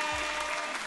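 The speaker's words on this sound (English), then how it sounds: "please give Cortez a huge round of applause and love." A short burst of applause at a virtual reception for an arts program, a dense, steady clapping that lasts about a second.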